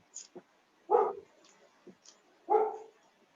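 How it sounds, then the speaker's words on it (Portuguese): A dog gives two strong, sharp barks about a second and a half apart, with softer yips and clicks in between, heard fairly close in a quiet room. "Agora estou ouvindo o seu cachorro."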